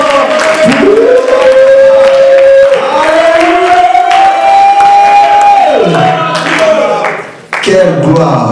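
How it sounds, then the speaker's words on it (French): A church congregation at a community church opening cheers and whoops loudly, with a sustained rising shout carrying over the crowd noise and voices mixed in throughout. "Nous acclamons très fort."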